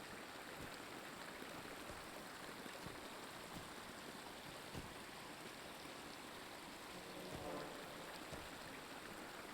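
Steady rushing waterfall ambience from The Lord of the Rings Online fills the scene, a constant broadband wash of falling water with soft periodic thuds and faint background music, moderately quiet and unbroken.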